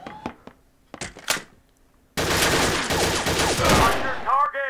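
Submachine gun fire from an Allied SMG 26-40 in the VR game Gun Club VR: a few scattered sharp shots, a pause, then a loud sustained burst of rapid automatic fire with metallic clatter at close range.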